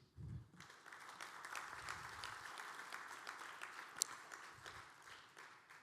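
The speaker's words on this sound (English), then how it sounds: "We need to give a big applause for our speakers for their presentation." Conference audience applauding speakers at an energy investment forum, steady clapping from a crowd sustained for several seconds, fairly faint and distant, with a few sharper individual claps.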